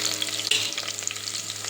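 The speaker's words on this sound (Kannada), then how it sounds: "ಈರುಳ್ಳಿ ಫ್ರೈ ಆಗ್ತಾ ಇದೆ ನೀಟಾಗಿ." Onions with chillies, garlic and ginger frying in a pan for a vegetable pulao give off a steady, close sizzle and crackle that runs unbroken, with no voices.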